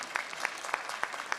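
A summit audience gives brief applause, dense even clapping with a few distinct sharp claps punctuating it, fairly close and loud for about a second and a half.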